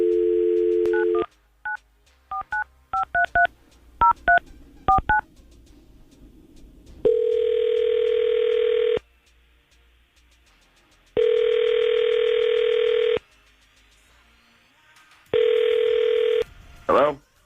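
A rapid series of telephone keypad tones dialing a number, then three long ringback tones separated by pauses, with a brief sound at the very end.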